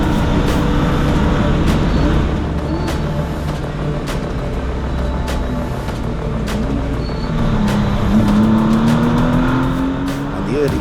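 Porsche Sprint Challenge race cars heading down a circuit straight, a steady loud engine roar with rising and falling pitch as cars pass.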